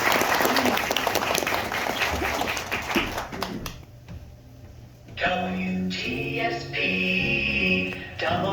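Theater audience at the Riverview Inn applauding the Tri-State Players cast before a Christmas show. Loud, dense clapping fills the first few seconds, then fades out, and a voice follows with music behind it.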